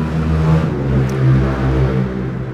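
A motorbike engine close by revs and drones, rising and falling in pitch over a couple of seconds in an outdoor workshop setting.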